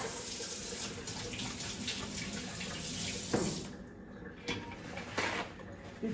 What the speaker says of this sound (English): First of all, I'm going to wash my hands.